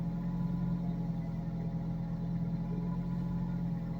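A high-performance car engine idles on a cold day to warm up, giving a steady, close, unbroken low hum with no change in revs.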